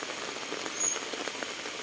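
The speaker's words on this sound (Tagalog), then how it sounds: "Naulan." Morning rain falls steadily near a lake, a soft, even patter of drops with no voices over it.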